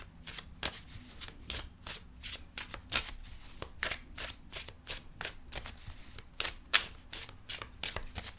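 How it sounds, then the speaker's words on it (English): Tarot cards being shuffled by hand, a steady run of quick, crisp riffles and slaps close by, with no talking. "I'm going to clarify the cards and pull some advice."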